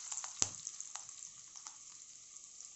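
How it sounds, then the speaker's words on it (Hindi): Ginger and chilies fry in a pan over low gas heat, a faint, steady sizzle with one sharp click near the start and light stirring taps. "अब गैस को हम स्लो कर देंगे, अदरक डालेंगे और निखारी मिर्च,"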